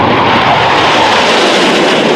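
A MiG-17F jet fighter with an afterburner roars loudly and steadily, a close, broadband engine rush with no voices over it.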